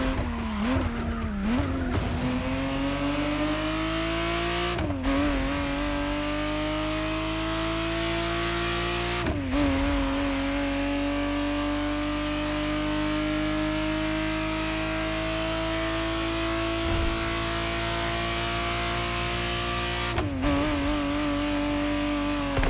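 A 1991 Ferrari 512 TR, the re-engineered Testarossa, revs in The Crew Motorfest racing game, a loud sustained engine note rising and settling across several gear changes, broken by brief cuts and some tire squeal.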